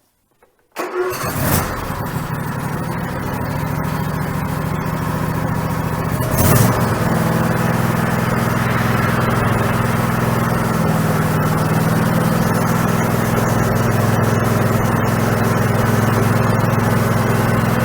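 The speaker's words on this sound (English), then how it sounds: "I'm going to fire up this riding lawnmower" A riding lawnmower engine cranks and catches after a moment of silence, then settles into a loud, steady running drone close by.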